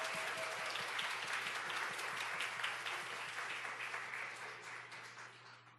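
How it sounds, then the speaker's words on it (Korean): A church congregation applauds together at a 2023 summer Bible school service: dense, sustained clapping from many hands that holds steady, then gradually tapers off near the end. "먼저 감사와 영광의 박수 올려드립니다"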